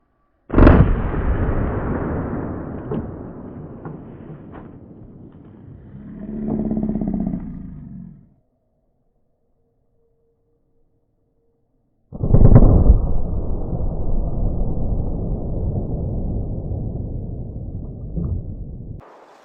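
.44 Magnum revolver shots fired outdoors during a penetration test: two loud, close blasts about twelve seconds apart, each followed by a long rumbling decay.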